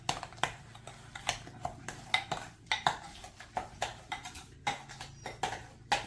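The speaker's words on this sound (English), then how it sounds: "Just stirring it up." Softened cream cheese and granulated sugar stirred in a bowl with a utensil, a quick series of clinks and scrapes against the bowl repeating in an uneven rhythm, close and fairly quiet, with no talk.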